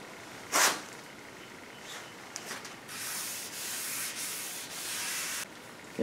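Wet sanding of a paint run with 2000 grit sandpaper over two-part polyester glazing putty, close rhythmic rubbing strokes in several bursts of varying length with no talking.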